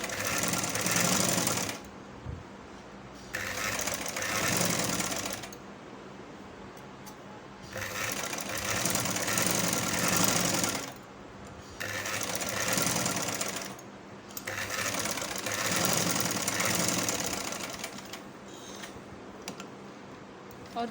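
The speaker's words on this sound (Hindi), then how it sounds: "ये निशान से एक पैर इस तरफ हम एक सिलाई लगाएंगे" A sewing machine stitches fabric for a child's sleeve in rapid mechanical bursts, a steady chattering whir that starts and stops several times with brief pauses between runs, close and clear, with no speech over it.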